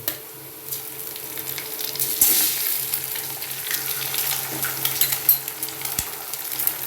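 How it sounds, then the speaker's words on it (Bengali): An egg fries with browned onions in a pan while being stirred, giving a continuous close sizzle broken by scraping and clattering stirring strokes, with no talking. "ডিমটা ভেঙে খুব ভালো করে একটু নেড়ে নেবো ভালো করে একটু ভাজা ভাজা করে নেবো"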